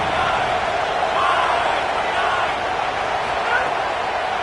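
Simulated stadium crowd in a college football video game, Clemson against Georgia, roaring loudly on third down: a dense, steady wall of cheering noise that holds throughout with no pauses.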